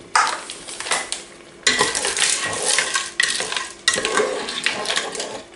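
A noodle and fish casserole gets stirred in a pot in several long scraping, sloshing strokes with short pauses between them, close and fairly loud, with no talking.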